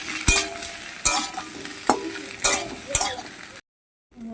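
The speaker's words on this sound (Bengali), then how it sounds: "কাঁচাগুলো পেঁপে আলুকে আর একটু ভালো করে ভেজে নেবো একসঙ্গে" Raw green plantain, papaya and potato fry together in a pan, a steady sizzle broken by several sharp scrapes and clinks of a spatula stirring against the metal before a brief pause.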